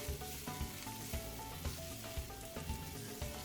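Carrots, pimento peppers and scallion whites cook in a pot for Trini stewed shrimp, a faint, steady sizzle with soft rhythmic stirring pulses, heard close with no talking.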